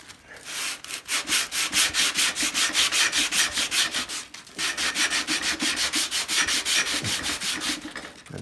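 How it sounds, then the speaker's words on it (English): Sandpaper rubbed by hand on wooden molding, a close rhythmic scratchy rasp of quick back-and-forth strokes with a brief pause midway. "Just doing the sandpaper now for the molding so that we can get that in there"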